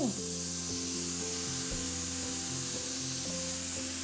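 Beef mince sizzles in a hot dry pan without oil as bolognese cooking begins, a steady broad frying hiss with light scraping and stirring knocks underneath, close and fairly loud throughout.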